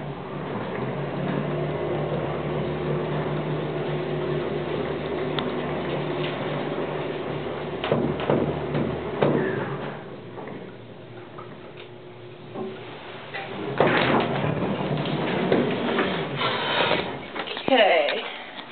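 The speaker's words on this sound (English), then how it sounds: "Door closes when we push the button." A 1970s Montgomery elevator door sliding shut after the button is pressed, a long mechanical rumble with ticking clicks and a heavier clunk toward the end, a person speaking over it.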